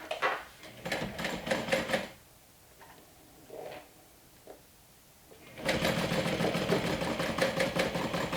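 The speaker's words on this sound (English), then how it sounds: "I will be stitching from the bottom with an 1/8 inch away from that line we just drew" A sewing machine stitches a crossbody bag, running in two bursts of rapid, even mechanical chatter with a quiet pause between them. The second run is longer and steady. No one speaks.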